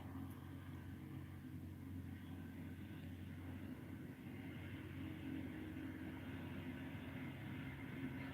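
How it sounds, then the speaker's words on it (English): Tractor driving down a street, a faint, steady low engine drone that holds the whole time with no clear rise or fall, heard from indoors. "that's somebody riding a tractor down the street."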